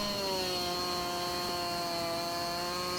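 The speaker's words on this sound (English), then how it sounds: "Bring it our Stihl MS660. We need to cut as low as we can" Stihl MS660 chainsaw in Farming Simulator 19 cutting low through a tree trunk, a steady high-pitched engine whine holding at full throttle throughout, loud and close with no talk over it.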